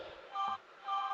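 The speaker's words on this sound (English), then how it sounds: "That's my phone exploding." A phone gives two short electronic notification tones in quick succession outdoors while camping, clear and close with a brief pause between them, no speech.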